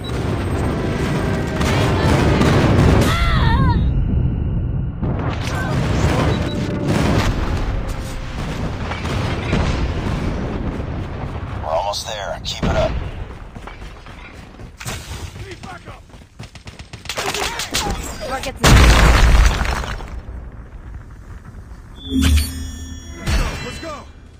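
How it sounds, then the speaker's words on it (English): Airstrike explosions in the mobile shooter Call of Duty Mobile, with a run of heavy booms and bursts of gunfire rolling through the fight and sharp blasts near the end. "Friendly airstrike incoming."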